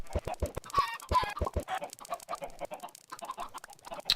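Several video game chickens cluck and squawk in short, close bursts, with quieter clucking continuing afterward.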